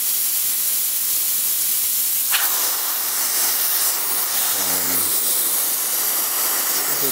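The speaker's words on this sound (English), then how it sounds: "You can see it's putting out a very fine mist" A machine tool's coolant mister spraying a very fine, icy cold mist, a steady loud hiss that bursts in sharply partway through, with a low motor hum running underneath.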